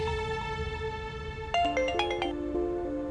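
A mobile phone's melodic ringtone plays indoors in a Turkish drama scene, a bright repeating electronic tune with quick stepped notes, clear and alone.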